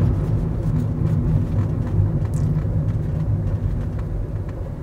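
Steady low rumble and road drone inside a moving Fiat Doblo cargo van at night, a continuous hum running the whole time with faint ticks over it and no talk.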